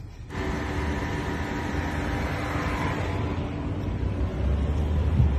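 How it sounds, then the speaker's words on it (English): A Genesis G80 engine with active sound design set to high, a deep, steady synthetic-sounding drone that starts abruptly and grows slightly louder, close and continuous. "You can actually do this active sound design and you can control the sound of your engine."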